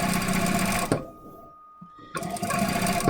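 A JUKI DDL-9000 or J-150 industrial sewing machine fitted with a hemmer foot runs in a fast rapid stitching whir, pauses for about a second, then starts up again at full speed.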